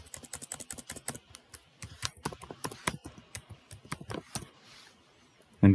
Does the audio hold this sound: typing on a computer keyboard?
yes